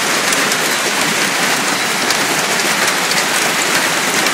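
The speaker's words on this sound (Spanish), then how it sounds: "¡Cuánto granizo!" Giant hailstones pound down in a dense, loud, steady roar during a heavy hailstorm, a continuous hard clatter filling the whole stretch with no voices.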